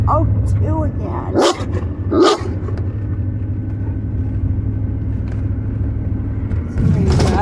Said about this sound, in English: Puppy dog out for a walk.